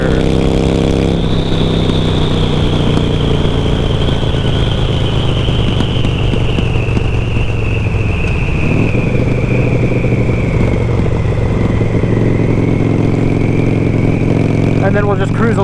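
Harley-Davidson Sportster with loud exhaust pipes riding in third gear around a bend, a loud, constant close engine drone with a slowly falling tone and heavy rumble throughout.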